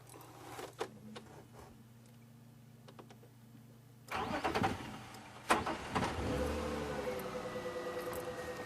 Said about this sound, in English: he doesn't even lift his head when we start the car